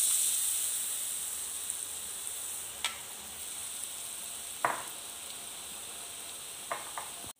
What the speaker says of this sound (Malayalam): അടുത്തത് നമുക്ക് പച്ച കളർ ബൂന്തിയും കൂടെ ഫ്രൈ ചെയ്തെടുക്കാം